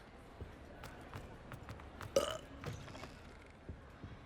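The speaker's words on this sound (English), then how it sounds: "This burping." A character in Hogwarts Legacy burps as a polyjuice potion wears off, one short loud belch among faint thumps and clicks of game ambience.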